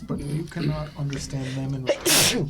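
A single sneeze bursts out near the end, close and loud, right after a stretch of steady talk at a tabletop role-playing game session.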